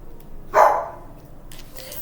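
A small indoor dog, a pug, gives one sharp bark near the microphone at people standing outside the door, then a quieter yip trails off, with faint room noise between.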